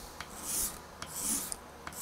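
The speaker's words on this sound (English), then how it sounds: "Let's take our scraper" A hand scraper works along the wooden side of a custom guitar body, giving rhythmic rasping strokes, about three in two seconds, each a bright scratchy sweep, close and quiet.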